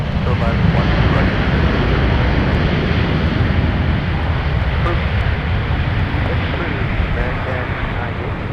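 Aircraft at MSP airport in Minneapolis, a loud continuous roar with heavy wind buffeting across the whole stretch, near and steady.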